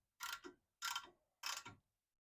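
An old, never-before-removed bolt on the suspension of a Honda Acty van being worked loose, giving three evenly spaced close ratcheting bursts, each a grinding clatter that fades with a lower tail before a short silence.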